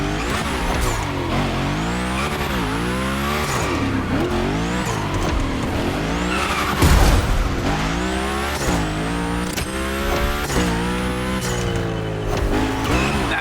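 A car drifting in The Crew Motorfest racing game, its engine revving up and down in repeated sweeps while tires squeal continuously, loud and close throughout with a heavy thump near the middle.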